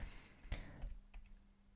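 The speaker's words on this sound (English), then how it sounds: "I'll just move this down with my arrow keys on the keyboard" Arrow keys on a computer keyboard are tapped quietly a few times, soft clicks spaced out against a faint, low hum with no talk.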